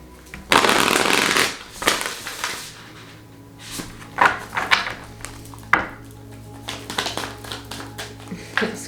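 A deck of tarot oracle cards is shuffled in a loud riffling burst up close, followed by scattered taps, slides and soft flicks as cards are handled and drawn.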